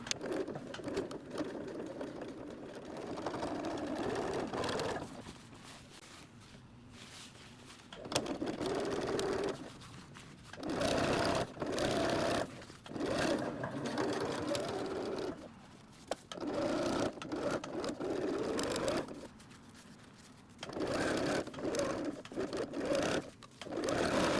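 A sewing machine stitches a replacement zipper into a thick coat, running in loud steady bursts separated by short pauses, with no talking.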